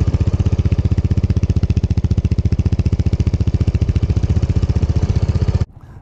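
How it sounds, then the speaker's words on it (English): A Piaggio Liberty 150S scooter revs while standing still, its engine giving a loud, steady buzzing drone up close that holds for about five and a half seconds, then cuts off abruptly to near quiet. "I'll put a little clip here just of me revving it at a standstill."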